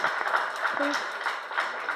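Audience applause at a Queens community board monthly meeting, a steady dense patter of many hands filling the room, with murmured voices mixed in.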